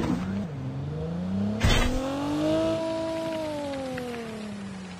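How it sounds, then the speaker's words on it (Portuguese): An enemy car drives up in a video game, its engine droning with a rising, then steady pitch as it approaches, broken by a brief sharp impact-like burst. "Chegou um carro inimigo aí."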